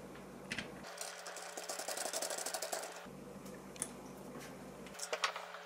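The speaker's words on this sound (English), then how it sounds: "I'll use the Phillips screwdriver to remove the handle screw" Phillips screwdriver backing out the handle screw on a squeaky kitchen faucet, a quick run of small ratcheting, ticking turns in close bursts with short pauses between them, and no talking.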